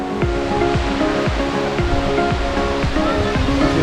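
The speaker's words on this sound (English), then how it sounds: "wind is whipping the water at the bottom of the falls" Roaring rush of Fall Creek Falls in a giant sinkhole, loud and constant broadband noise with wind-whipped water churning close by at the base.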